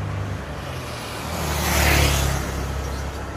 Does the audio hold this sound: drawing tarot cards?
no